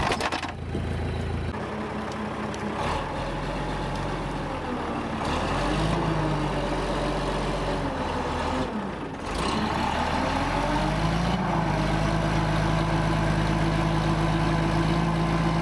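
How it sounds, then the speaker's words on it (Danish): A running engine, likely a truck or similar vehicle idling, with a steady low rumble throughout and a few shifts in tone, loud and close with no talking. "Dejlig motor."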